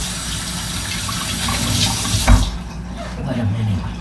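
Tap water runs steadily into a kitchen sink as hands are washed during meatball preparation, a loud close gush with a brief splash near the middle.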